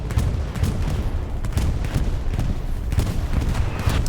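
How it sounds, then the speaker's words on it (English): Dense rumbling barrage of explosions from a bombing run in a World War II shooter game set in Carentan, continuous booms and deep thuds rolling one into another, loud and close with no talk. "No, that is a bombing run."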